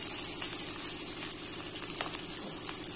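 Two large onions, sliced lengthwise, fry in hot oil in a pan for vegetable biryani, giving a continuous, steady sizzle with close crackling and no talk.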